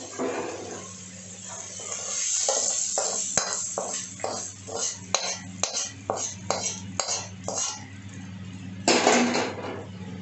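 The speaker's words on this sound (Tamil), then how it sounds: "இதை எடுத்துட்டு இந்த மட்டன் குழம்புல நம்ம ஊற்றிக்கணும்" Sautéed tomato masala is poured into a pot of mutton curry and stirred, giving a run of repeated clinks and scrapes of a spoon against the vessel over a low steady hum, fairly close and with no talk.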